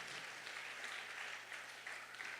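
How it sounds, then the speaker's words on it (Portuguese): Distant applause from a church congregation during a sermon, a steady wash of clapping heard faintly from afar. "Pode aplaudir o Senhor nessa noite"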